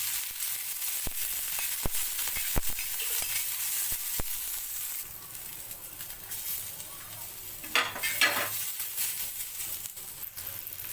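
Coriander, coconut, onion and rice roasting in oil in a pan, a soft continuous sizzle with scattered clicks of a utensil stirring and a brief louder scrape near the end.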